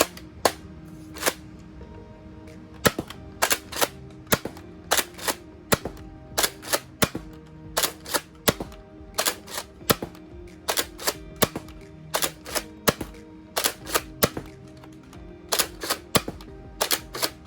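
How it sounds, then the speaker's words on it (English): A Nerf Elite 2.0 Echo blaster fires standard Elite darts, producing sharp, loud mechanical snaps in quick bursts of two or three shots separated by short pauses, repeated throughout with no voices. "Firing, again, the standard Elite rounds, except in the inverted colors."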